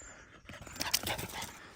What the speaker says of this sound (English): Little cattle dog from the pound.